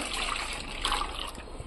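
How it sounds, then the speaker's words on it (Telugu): Hot water pours into a bowl, a short continuous splashing gush heard up close. "ఒక వెడల్పాటి గిన్నె తీసుకొని ఇందులోకి వేడి నీళ్ళు వేసుకోవాలి"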